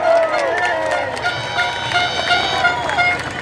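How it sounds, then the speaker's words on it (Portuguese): Crowd at an outdoor Independence Day rally on Avenida Paulista applauding and cheering a speaker, a continuous roar with whoops and shouted voices mixed in, fairly loud. "Uma salva de palmas para Marco Antônio do Fio Diário."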